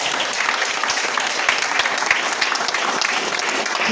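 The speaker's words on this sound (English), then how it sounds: "I want you to give yourself a very big hand clap" Community members give a big round of clapping, a loud, dense burst of applause that fills the space continuously with a few sharper individual claps poking through.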